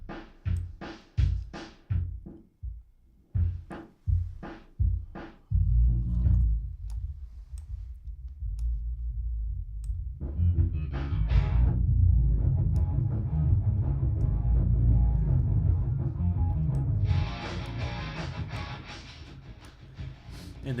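An Airwindows high-pass filter plugin with nonlinearity, processing a run of sharp percussive clicks that give way to a dense, sustained buzzing texture, which brightens and thickens toward the end.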